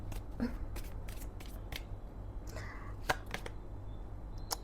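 Tarot cards shuffled by hand in a quiet room, a run of brisk papery riffles and soft taps, close and fairly faint, with no talk over them.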